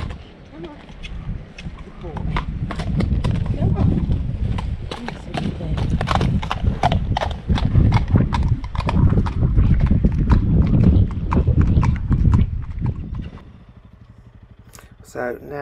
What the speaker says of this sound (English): So now that horse has passed